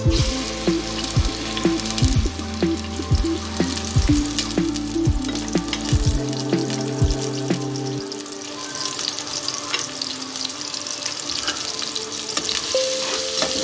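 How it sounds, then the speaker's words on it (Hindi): Chopped onions sizzling in hot oil in a pan for chicken haleem, a dense steady frying hiss that fills the scene, with a few clinks and scrapes of stirring over it. "ऑयल हमारा गरम हो गया है। अब हम इसमें ऐड करेंगे प्याज"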